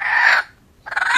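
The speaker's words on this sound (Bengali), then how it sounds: "মুরগিটা সেই ডিম পাড়া মুরগি, ডিম পাড়ছে সেই মুরগি।" An egg-laying hen clucks loudly and close by in two short bursts with a brief pause between them.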